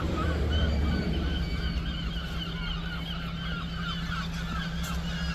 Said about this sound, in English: Bloody seagulls everywhere.